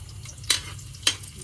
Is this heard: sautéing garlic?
yes